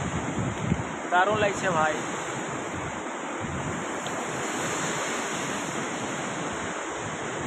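Water pours through a large dam in a steady, broad roar mixed with wind buffeting the microphone, and someone speaks briefly early on over the constant rush.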